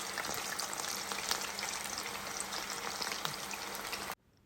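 Chicken 65 pieces frying in oil over medium heat give a dense, continuous crackling sizzle, close and even throughout, until it cuts off abruptly at the end.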